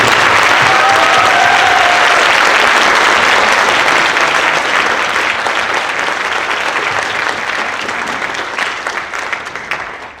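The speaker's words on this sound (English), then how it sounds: "Another round of applause for us." An audience at a spring high school band concert applauds loudly and steadily for about ten seconds, the dense clapping tapering off slightly toward the end.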